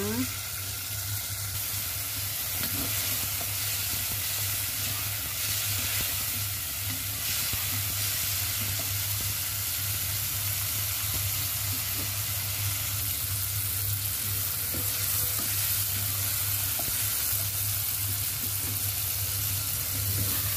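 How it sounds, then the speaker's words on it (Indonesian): Steady sizzling of chili peppers frying in hot oil, continuous crackle and hiss throughout with occasional stirring clatter. "saya langsung goreng seperti ini supaya nanti lebih gampang diuleknya. Diaduk-aduk ya bun sampai cabenya matang."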